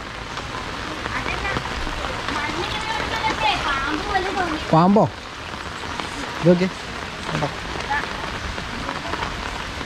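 Rain falls steadily during a river flood that has overflowed toward houses, a continuous patter on surfaces, with voices talking over it in the foreground.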